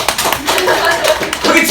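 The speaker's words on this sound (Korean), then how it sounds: "박수 시작하면서 시작해보도록 하겠습니다" High school students in an audience clap in a burst of uneven applause at the start of a talk, fairly loud and close, with voices mixed in.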